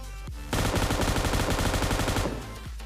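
Rapid automatic M249 gunfire in a video game rattles in one sustained burst of about two seconds, loud and close, with a synthetic game-like quality.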